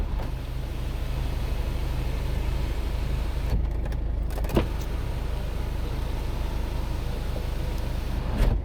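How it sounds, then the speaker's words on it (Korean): A BMW SUV's panoramic sunroof motor opening: a steady electric whir runs continuously under a broad hiss, with a soft click or two partway through. "파노라마 선루프 정상 작동되는지 확인 도와드릴게요"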